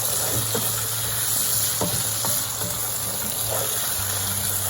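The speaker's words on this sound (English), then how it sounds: "Fry the tomato for next 1 minute." Chopped tomato frying in a pan for kheema pattice, a steady close sizzle with occasional soft stirring scrapes and no talk.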